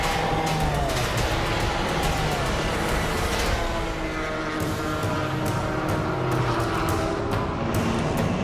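Stefan Sarrazin's number 8 race car, running fourth overall, races along the track close behind another car. A loud, continuous engine roar fills the whole stretch, its pitch sweeping and shifting as it passes, with steady broadband track noise underneath and no talking.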